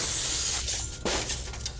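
Glass shatters as attackers smash up a house, with a loud, sharp crash of breaking panes bursting out over a rough, noisy background.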